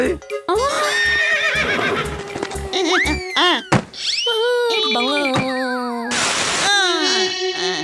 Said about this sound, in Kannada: ರಥಕ್ಕೆ ಕುದುರೆನ ಕಟ್ಟು